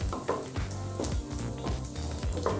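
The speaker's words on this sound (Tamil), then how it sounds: "தேங்காயை நல்லா கலர் மாற வரைக்கும் வறுத்துக்கலாங்க." Soft steady sizzling and crackling of coconut pieces roasting in a hot pan, with occasional scraping stirs, close by and without talk.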